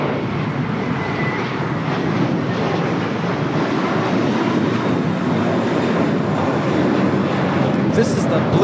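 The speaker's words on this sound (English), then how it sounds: "This is the Blue Carpet Treatment taking off to Fort Lauderdale. It's JetBlue 100. It's an A321." A JetBlue Airbus A321 taking off from LAX, a loud, steady jet engine roar filling the scene with some wind buffeting, while a person talks over it.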